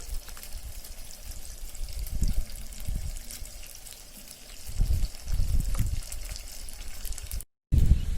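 Dissolved tamarind water is poured through a strainer, making soft splashing and trickling sounds in irregular bursts that come up close and fairly loud.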